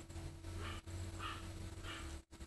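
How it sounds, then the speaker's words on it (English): A pet dog indoors barks three times, evenly spaced and faint, as if from another room, over a steady hum. "My dog is barking."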